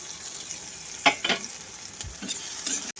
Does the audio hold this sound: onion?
yes